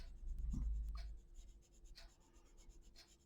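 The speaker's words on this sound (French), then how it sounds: "j'aimerais bien trouver un crayon qui glisse pas tant que ça sur le papier" Colored pencil scratches across slippery paper in short, steady strokes, a close, quiet rubbing with a soft rhythmic texture and no voices.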